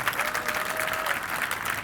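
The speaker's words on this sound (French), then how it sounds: "de monsieur Galedou System, Master Soumi, que je vous demande d'applaudir très fort" A studio audience at a televised talent show claps loudly and continuously, dense even applause filling the room.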